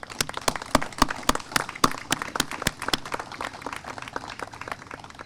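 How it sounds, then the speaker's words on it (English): A crowd applauds at a 9/11 twentieth-anniversary wreath-laying memorial ceremony, with sharp individual claps standing out above a steady patter for about five seconds. "Can we please give them a round of applause?"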